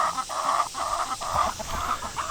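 Chickens cluck in a steady run of repeated, fairly close calls, settled on a homestead ahead of a hurricane, with no talk over them.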